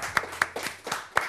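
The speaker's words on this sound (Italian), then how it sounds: "Un applauso!" Audience clapping greets a guest singer on an Italian TV show: a short burst of several sharp, spaced hand claps, fairly near and moderately loud, with no voices over them.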